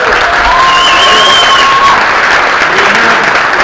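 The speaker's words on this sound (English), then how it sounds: "Give a round of applause for Chris" Loud, steady applause from a convention panel audience greeting guest Chris at a Night of the Living Dead 1990 Q&A, filling the whole stretch, with a couple of faint whistles and scattered voices in the crowd.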